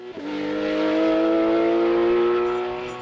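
A Porsche 991 GT3 Cup race car at a hillclimb at Chamrousse, loud and close, its engine holding a high sustained wail that swells and then fades slightly as it passes, no voices.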